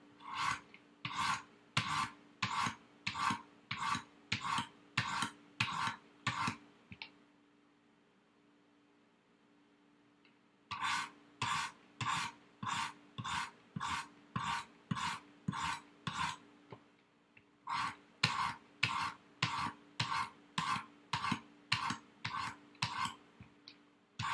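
A kitchen knife is drawn across a sharpening stone in quick, regular rasping strokes. They come in three runs of about a dozen strokes each, separated by short pauses. The strokes sound close and clear, with no talk.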